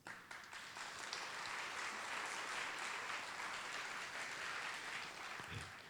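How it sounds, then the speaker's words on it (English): Audience at a university welcome-back event giving a round of applause for co-chairs, a broad, even roar of clapping that swells in quickly and holds steady before tapering at the end, heard faintly from a distance. "I want to ask you for another round of applause for our Middle States"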